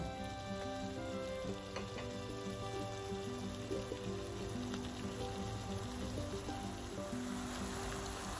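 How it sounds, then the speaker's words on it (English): Peppered fish sauce cooking in a pan for a Nigerian recipe: a steady, close sizzle and bubbling frying sound that continues unbroken throughout. "So I'll leave that in to cook for about 3 minutes"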